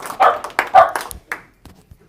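Dog in a conference audience letting out a few short yips and barks, fairly close, in quick succession followed by quieter sporadic sounds, mixed with brief murmuring voices.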